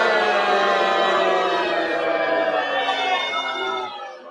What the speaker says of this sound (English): let's hear the crowd's reaction